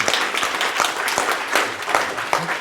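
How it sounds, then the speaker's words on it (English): Audience applause in a conference session hall, scattered individual claps merging into a moderate, steady patter that carries on throughout. "Let's give these guys a round of applause."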